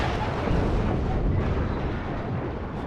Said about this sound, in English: Drops a cluster on me